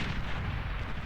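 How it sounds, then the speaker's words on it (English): A dense, continuous roar of T3 mobile artillery and heavy explosions in the Beyond All Reason strategy game, loud and rumbling without a break. "This is how T3 mobile artillery is supposed to work."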